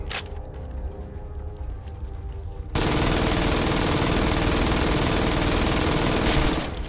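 Automatic gunfire in Fallout 4: a few scattered shots, then a sudden sustained roar of rapid continuous fire that runs for several seconds, loud and close, with no talking.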